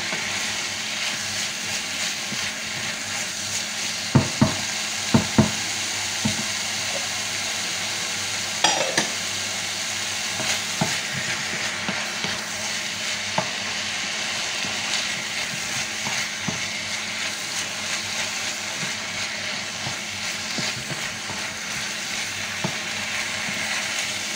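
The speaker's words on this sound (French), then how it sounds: "on va laisser mijoter comme ça. Le temps que les tomates réduisent." Tomato sauce for stuffed cannelloni simmers in a pan with a soft, continuous bubbling hiss, broken by scattered small pops and an occasional light clink.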